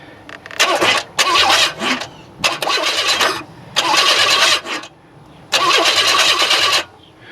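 Remanufactured engine in a 1994 Chevrolet Astro van cranking without starting, in five loud starter bursts of about one second each, separated by short pauses, heard close up.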